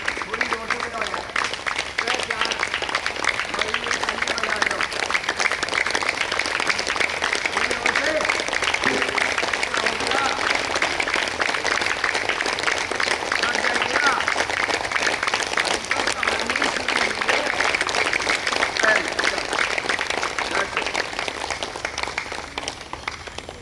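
Participants at a yoga workshop clap louder in sustained, dense applause from a large group, a continuous even roar of many hands lasting over twenty seconds without pause.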